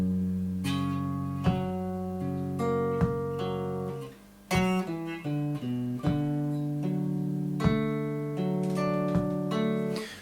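Guitar playing a riff, clean plucked notes and chord stabs ringing over one another, close and steady with a brief dip midway.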